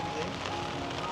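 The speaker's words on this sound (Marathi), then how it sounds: "पाऊस एकदम भरपूर लागतोय" Heavy monsoon rain falls by the sea in Konkan, a dense steady hiss of drops with no break across a short stretch.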